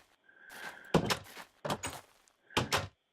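A dark oak door in Minecraft swings open and shut several times, making hollow wooden thunks and creaks in quick clusters, close and clear with no talk.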